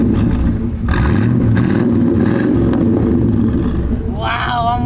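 A car engine revs loudly nearby at a cruise night, its rumble swelling in repeated bursts while people talk over it.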